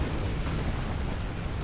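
Artillery fire in the Rise of the Reds real-time strategy game, a dense rumbling wash of overlapping blasts and booms that holds steady and loud throughout.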